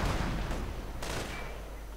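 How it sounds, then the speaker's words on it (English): Rocket artillery from a Calliope launcher in a World War II-style strategy video game, a dense rumbling barrage of overlapping blasts filling the whole stretch, loud and continuous with a sharper burst midway. "we see a Calliope firing right here for some reason"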